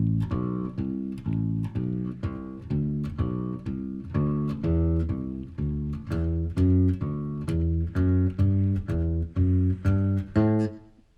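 Bass guitar notes are plucked one by one in a steady rhythm, climbing gradually higher in pitch, each note clear and sustained, with no talking.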